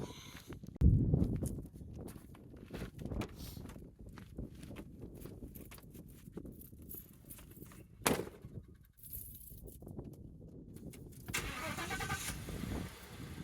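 A storm-chasing truck sits with its engine running quietly, a low rumble broken by scattered clunks and one sharp knock midway, then a brighter rushing rise near the end.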